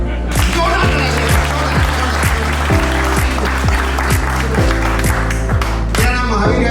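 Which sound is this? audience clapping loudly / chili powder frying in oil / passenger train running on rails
audience clapping loudly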